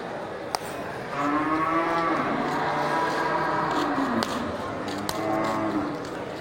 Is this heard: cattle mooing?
yes